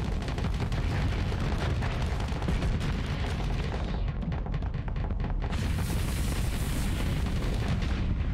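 Spaceship weapons in Starsector blasting away continuously, a dense roar of layered booms and rapid impacts from many ships at once, loud throughout with sharper crackling bursts toward the end.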